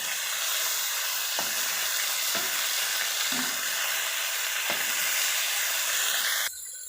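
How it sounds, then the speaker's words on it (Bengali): Fish frying in oil in a kadai gives a loud, steady, close sizzle and hiss, broken by a few faint scraping or turning taps, then cutting off abruptly near the end. "মাছটা ভেজে নেব।"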